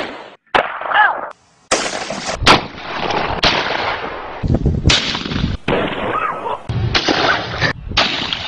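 A shotgun fires a slug outdoors: several loud, sharp blasts spread irregularly across the stretch, each with a short echoing tail, and bursts of excited voices between the shots.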